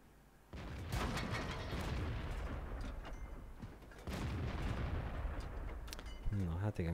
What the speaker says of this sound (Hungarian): két lövés előttünk, és egyikkel se vittünk be sebző találatot